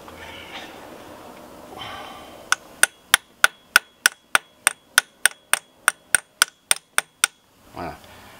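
About sixteen sharp, evenly spaced metallic hammer blows on a socket drive a core plug into a Peugeot 308 engine block. The strikes ring out loud and close, quickening slightly, with quiet handling noise before and after.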